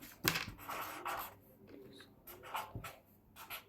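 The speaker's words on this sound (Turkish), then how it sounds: "854, hemen kağıda yazıyorum." A pen writing on paper, heard as close, faint scratching strokes in short bursts with small taps between them and no talk.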